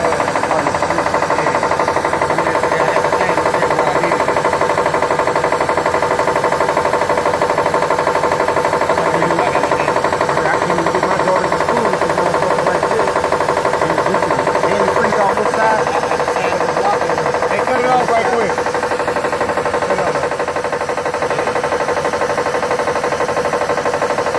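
A used car engine, its block leaking antifreeze, idles loudly and close, a constant rumbling drone with a rough knocking texture that runs unbroken throughout, while muffled voices sit faintly underneath.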